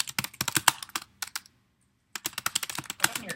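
Quick, close clicks of typing on a computer keyboard come in bursts, pausing for under a second before resuming at the same brisk pace.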